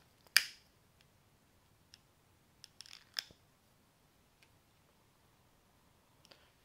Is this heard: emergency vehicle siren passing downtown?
no